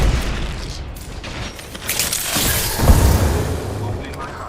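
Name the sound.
Arc Star grenade exploding in the video game Apex Legends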